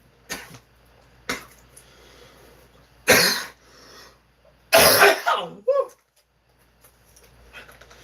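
Several harsh coughs and throat-clearing bursts come close up, separated by quiet pauses, with a rough hacking fit near the end.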